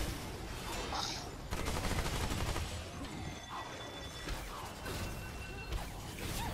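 Rapid video game gunfire bursts in close, loud volleys over roughly six seconds, mixed with crashing impacts and clanking mechanisms, with a voice faintly present.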